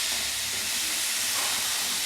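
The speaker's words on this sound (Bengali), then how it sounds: "দেখুন বন্ধুরা জলটি ফুটে উঠেছে" Water boiling in a cooking pot for Bengali shukto gives a steady close hiss and bubbling seethe, continuous and even for the whole brief moment, with no voices.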